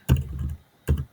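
Two distinct key presses on a computer keyboard while typing Java code, close and clear, separated by a short pause in an otherwise quiet room.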